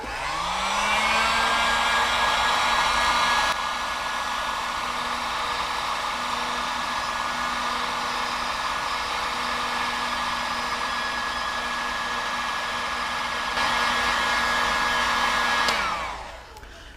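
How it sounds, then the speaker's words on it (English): A heat gun blasts hot air onto a car badge that has been cleaned with rubbing alcohol, giving a steady loud blowing whine with a constant motor tone that holds for about fifteen seconds and then shuts off. "So now I'm gonna go ahead and use the heat gun and get it heated up a little bit."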